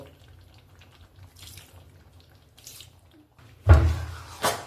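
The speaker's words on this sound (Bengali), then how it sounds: "মাঝে অল্প অল্প একটুখানি গরম জল অ্যাড করব।" Hot water is poured into bhuna chicken cooking in a pan, with a faint background simmer followed by a short, loud splash and hiss near the end.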